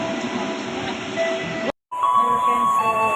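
Rumbling rail noise of a passenger train ride in Indonesia, with steady clatter and hum from the carriage running continuously, briefly cutting out near the middle before resuming at the same level.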